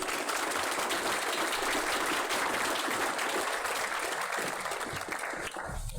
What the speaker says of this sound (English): Can I have a round of applause for these candidates?